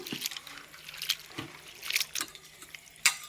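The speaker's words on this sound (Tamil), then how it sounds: "நல்லா தண்ணி விட்டு மூழ்க விட்டு நல்லா அலம்பிக்குவோம்." Water sloshes and splashes in short bursts as rice flakes are swished and rinsed by hand in a bowl, close up.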